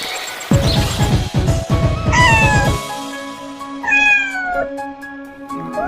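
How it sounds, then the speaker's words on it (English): A cat meows several times, loud and close, with a few short clattering knocks between the calls. "Cat."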